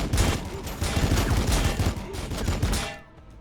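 Gunfire from an Adepta Sororitas Immolator in the Warhammer Battlesector strategy game: a loud, dense fusillade of rapid overlapping shots that runs for about three seconds and then cuts off sharply.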